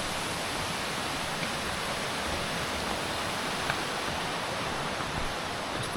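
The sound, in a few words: river flowing beside a hiking trail on Mount Waumbek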